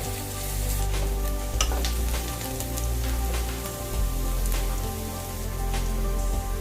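Onions sauté in a pan for a Maggi noodle dish, giving a steady hiss with scattered pops and stirring scrapes throughout, with no talking.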